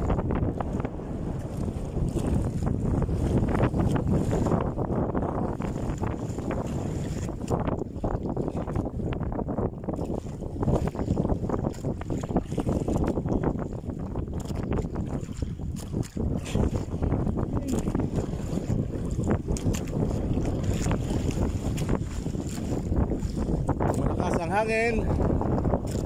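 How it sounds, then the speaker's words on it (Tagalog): Steady wind buffets the microphone on open water beside a small fishing boat among Philippine rice-field country, with rising waves, a continuous loud rushing roar throughout while people talk over it. "Hangin."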